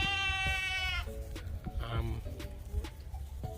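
A young native crossbred buck goat on a goat farm gives one loud, close bleat lasting about a second, followed by busy outdoor farm noise and faint voices.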